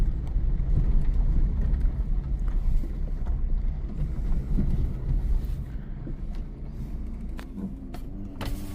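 A Gypsy jeep drives fast along a forest track in Rajaji National Park, its engine roaring steadily under heavy wind buffeting on the microphone, with scattered knocks and rattles from the rough ground.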